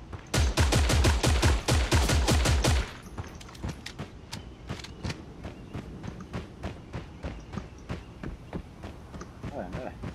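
Gunfire in the video game Creative Destruction opens with a loud, rapid automatic burst, followed by scattered, quieter single shots and short volleys.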